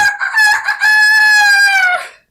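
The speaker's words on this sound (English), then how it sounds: "That rooster looks happy to see me." A rooster crows once close by, a loud, bright cock-a-doodle-doo with a stuttering start rising into a long sustained call that fades out at the end, heard alone.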